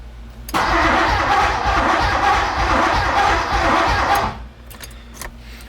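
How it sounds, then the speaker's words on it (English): A 1980 Porsche 928 engine cranks over in a loud, close burst lasting about four seconds with a churning starter rhythm, then cuts off to quiet with a few faint clicks. "Car's cranking now."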